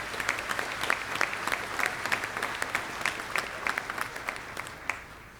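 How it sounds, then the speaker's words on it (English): Audience at a Roane State commencement ceremony giving a round of applause to faculty members, brisk, dense clapping with sharp individual claps standing out, sustained and fading toward the end. "Please join me in a round of applause to thank these faculty members for their"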